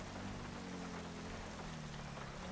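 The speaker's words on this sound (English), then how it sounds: "Man, it is really raining out here." Steady rain hisses without a break in the video game LSPDFR, a dense wash of drops with a faint low hum underneath and no voices.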